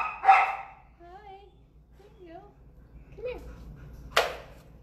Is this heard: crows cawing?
no